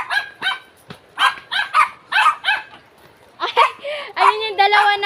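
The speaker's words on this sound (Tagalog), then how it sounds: "Ayun yung dalawa namin. Maliliit na aso." Two small dogs barking near Bolinao Falls in Pangasinan, sharp repeated yaps in quick bursts with some whimpering, while a person talks over them.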